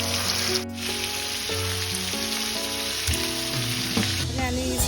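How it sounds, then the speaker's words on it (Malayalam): Marinated chicken taken straight from the fridge sizzles in hot oil for chicken chukka, a steady, dense frying hiss running throughout, with faint tonal sounds in the background and no talking. "ഫ്രിഡ്ജിൽ നിന്ന് എടുത്ത ചിക്കൻ നേരെ വറക്കാൻ എടുക്കണതാണ്."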